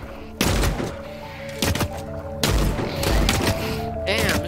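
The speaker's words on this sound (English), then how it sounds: "Damn, the shotgun's so good." A shotgun fires repeatedly in the shooter game The Cycle, three or four heavy booming blasts with thuds between them, under occasional talk.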